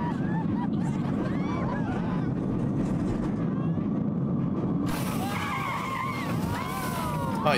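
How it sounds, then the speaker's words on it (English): A roller coaster train braking in the Planet Coaster theme park game, with a loud continuous hiss and squealing, sliding friction under busy park ambience and faint crowd noise. "Oh, you actually heard the brakes."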